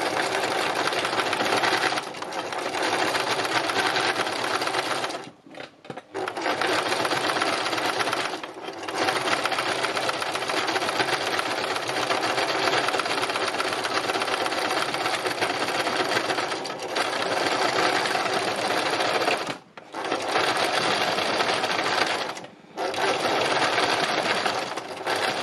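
A sewing machine runs in long continuous bursts, stitching quilted fabric, its steady buzzing whir stopping briefly a few times before starting again, loud and close with no voices.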